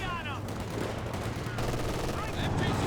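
Machine gun fire rattles in rapid continuous bursts during a Company of Heroes 2 multiplayer battle, loud and dense with battlefield noise and a voice talking underneath.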